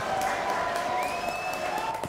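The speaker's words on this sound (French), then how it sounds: "Applaudissements, s'il vous plaît" Applause closing a French television show, a steady wash of clapping from a modest audience heard under a sustained tonal sound, with no talking.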